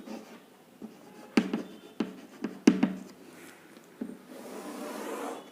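Pen strokes on paper while drawing graph axes, soft scratchy scrapes and sharp taps in an uneven sequence, close and quiet, with no talk.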